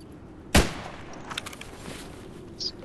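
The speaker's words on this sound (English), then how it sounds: "crazy shots going on." Gunfire in the video game Escape from Tarkov (PVE mode): one sharp, loud close shot followed by a few fainter, more distant pops over low background noise.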